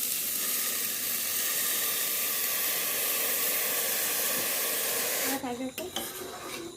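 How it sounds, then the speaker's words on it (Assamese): Rice with sliced carrots and raisins frying in a pot, giving a steady close sizzle and hiss that runs evenly, then breaks into a few stirring scrapes and clatters near the end. "সেইখিনি অলপ দেৰি ভাজিব লাগিব"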